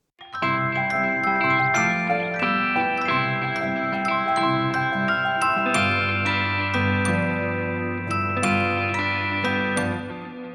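Electric guitar, celeste and piano play together in a bright, tinkling pop arrangement, with chiming bell-like notes layered over sustained chords and a deeper bass line entering midway, steady and close with no talking.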